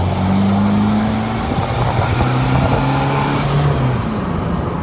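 A car pulls away and accelerates, its engine a loud, close, steady drone with tones that shift and rise throughout. No one speaks.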